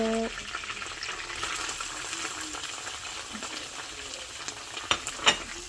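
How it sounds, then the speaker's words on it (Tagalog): Onion and garlic sauté in hot oil in a pan: a steady, fairly loud sizzle holds throughout, with a couple of sharp utensil clinks near the end. "Ilalagay na po natin yung sibuyas at saka bawang po"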